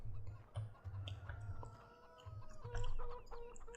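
Chickens on a farm in the Farming Simulator 2017 video game cluck in short repeated bursts, several birds nearby with one drawn-out call, fairly quiet and with no talk.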